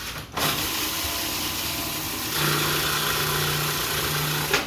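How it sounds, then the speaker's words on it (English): A food processor purees cheesecake crust crumbs with melted butter, giving a steady, close motor whir that shifts slightly in pitch partway through. No one speaks. "we're going to be putting that also in a food processor. Going to puree for maybe half a minute"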